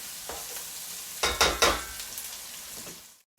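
Onions sizzle softly in a pan, with a few sharp clattering stirs and scrapes near the middle before the frying fades back to a quiet hiss.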